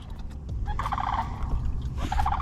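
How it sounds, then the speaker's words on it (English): Ducks feeding near a river bend give rapid, chattering call bursts over a steady low outdoor rumble, two clusters close together. "These ducks here are eating something."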